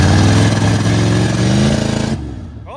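A Dodge car engine revs hard during a one-wheel burnout, a loud, sustained throaty roar close by that holds for about two seconds, then cuts off and fades quickly.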